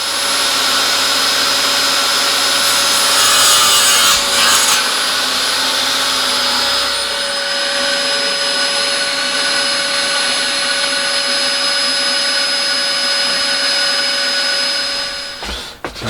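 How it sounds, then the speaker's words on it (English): Power saw cutting timber into pieces for leaflet holders in a small workshop shed, a loud, steady whining drone that runs almost without a break for about fifteen seconds before cutting off at the end. "I think I'm going to start with chopping the timber into the right size pieces."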